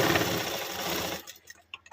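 A sewing machine stitches blouse fabric in a fast continuous whir that stops abruptly, followed by a few light clicks and taps.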